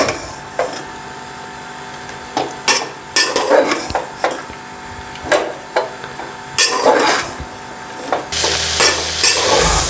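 Shredded cabbage goes into a pan with about three spoons of oil over medium heat, giving repeated close scrapes and stirring knocks of a spatula against the pan, then a steady loud sizzle at the end.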